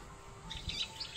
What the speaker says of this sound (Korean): 새들이 저 열매를 따먹어요.